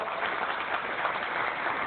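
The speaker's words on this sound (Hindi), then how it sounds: "आपकी तालियों की गड़गड़ाहट इस बात की साक्षी है" An audience at a yoga camp held inside a jail applauds, giving a steady, dense wash of clapping from many hands that holds at an even level throughout.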